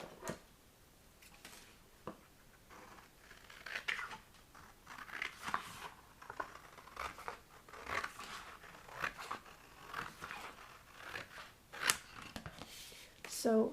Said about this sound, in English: And I'm going to cut along this line.